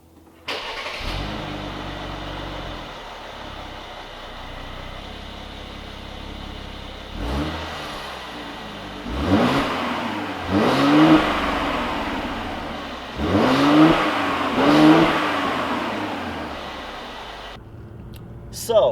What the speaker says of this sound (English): let's try startup and see what happens.